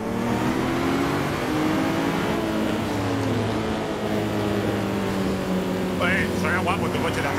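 A loud Mitsubishi Evo engine drones and revs in Assetto Corsa, steady and close, with other car sounds under it and voices talking over it.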